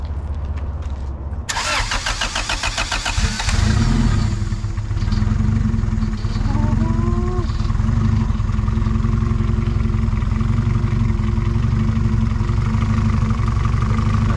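A Japanese classic car engine with an open downpipe cranks and fires up loudly, then settles into a steady, rumbling idle, close and continuous.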